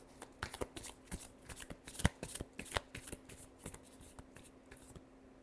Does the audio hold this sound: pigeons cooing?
no